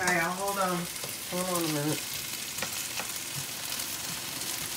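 Potatoes frying in a pan while being stirred, a loud steady sizzle running throughout with scraping of the stirring, and someone briefly speaking over it at the start.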